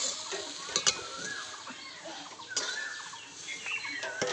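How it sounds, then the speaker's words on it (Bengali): Bottle gourd leaves fried in a pan are stirred with scattered scrapes and light metallic clinks over a faint sizzle, close and quiet. "নেড়ে নেড়ে দিচ্ছি। লাউ পাতা ভাজা হয়ে গেছে"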